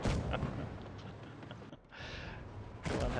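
Heavy tank guns boom in a tier 9 sharpshooter battle game, loud blasts with rumbling sustained roar, a brief dip near the middle before another heavy burst at the end.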